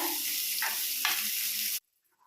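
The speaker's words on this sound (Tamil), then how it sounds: "ஆனியன் பச்சை மிளகா க்ரீன் சில்லி இதை லைட்டாக வதக்கி விட்டுக்கலாம்" Onion and green chili sautéing for instant rava idli, heard as a loud, continuous bright sizzle with a few stirring scrapes, cutting off abruptly to near silence.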